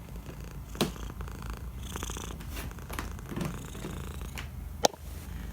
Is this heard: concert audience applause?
no